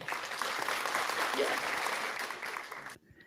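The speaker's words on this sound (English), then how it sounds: "that's worth an applause" Applause from a small group rings out steadily for a few seconds, fairly soft, then cuts off abruptly near the end.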